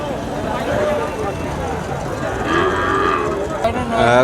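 Sahiwal calves moo at a busy cattle market in Nilphamari, with several close, drawn-out lowing calls rising over someone talking and general crowd chatter.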